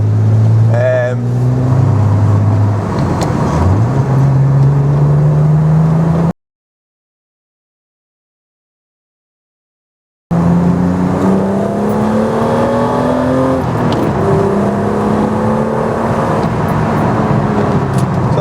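Euro-spec BMW M3 track car, about 25 years old with freshly changed spark plugs, accelerating hard on the road; strong rising engine tones climb through the gears, loud and close, with a gap of silence midway and the revving picking up again after.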